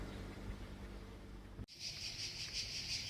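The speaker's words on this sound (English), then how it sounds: "you can hear those crickets in the background that are huge" Crickets chirping outdoors in Kefalonia, a faint high pulsing trill that swells after a brief cut and carries on steadily in the background.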